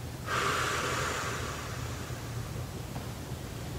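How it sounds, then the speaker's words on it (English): A forced exhale during an at-home abs exercise: one long, close breath out that starts sharply, holds for over a second and then fades, with no talking. "Forced exhale, at least 3 to 4 seconds, inhale in, exhale."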